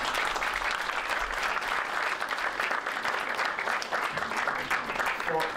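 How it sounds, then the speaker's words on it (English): Steady, dense applause from a lecture audience fills the room at full strength throughout, with a few voices faintly audible beneath the clapping. "Now a round of applause for Kim."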